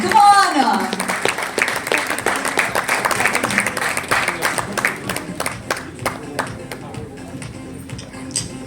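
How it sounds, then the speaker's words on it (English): An audience claps for dignitaries being welcomed onstage at the launch of a women's handball league in India. The applause is steady and dense at the start, then thins into scattered individual claps as it fades. "Big round of applause"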